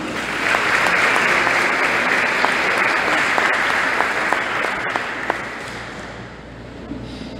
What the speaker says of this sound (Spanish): Un aplauso a estos hermanos.